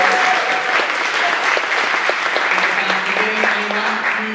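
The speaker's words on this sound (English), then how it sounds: "Huge round of applause for them." An audience applauds steadily for the helpers of a Scottish competition, a dense, even round of clapping with no voices.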